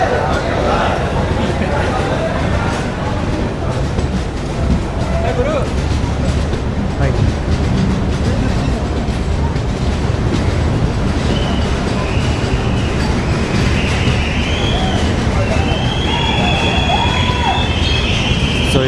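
A Humsafar express train pulls away from Elamanchili station on an inaugural run, making a loud, continuous rumble of wheels and carriages with occasional high squeals, while voices from a crowd on the platform carry underneath.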